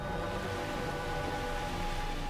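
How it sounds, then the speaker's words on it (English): Rain falling steadily, a dense continuous hiss of drops at constant loudness, with no voices. "releasing their water as rain and as snow"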